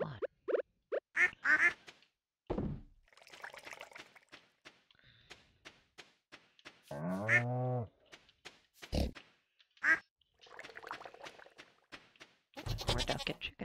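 Ducks quack repeatedly on a Stardew Valley farm, in short close bursts spread across the scene, alongside bleating goat-like animal calls and brief game sound effects, with no one speaking.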